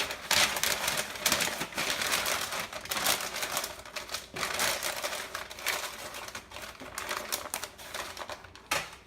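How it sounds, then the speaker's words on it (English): Butcher paper crinkles and rustles as smoked beef plate ribs from a kamado-style egg cooker are wrapped, a steady close-up crackling with scattered sharper crunches throughout. "Now that we've got the plate ribs wrapped in butcher paper"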